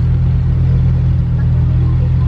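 A car engine rumbles loud and close, holding a steady, deep drone as it accelerates, with no talk over it.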